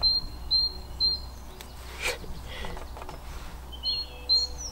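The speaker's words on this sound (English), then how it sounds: "this bird is really really loud" High, thin bird calls repeat in short bursts near the start and end, with rustling and faint background noise between them.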